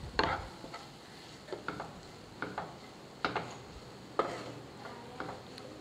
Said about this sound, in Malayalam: നമ്മളിട്ട മസാലയെല്ലാം നല്ലോണം ചിക്കനിലും ഉള്ളിയിലൊക്കെ നല്ലോണം പിടിക്കത്തക്ക മിക്സ്